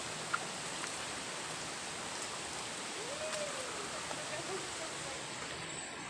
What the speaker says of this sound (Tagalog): Nabot na ta sa unang busay.